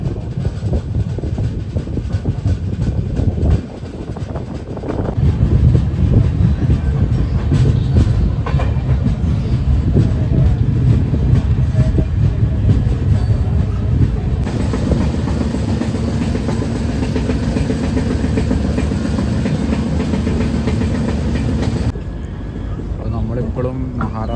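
A Kumbh special train from Kerala to Gaya, running hours late near Gondia, rolls on with a loud, steady rumble and rhythmic wheel clatter heard from inside the carriage, with wind noise throughout.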